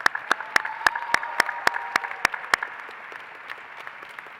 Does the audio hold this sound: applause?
yes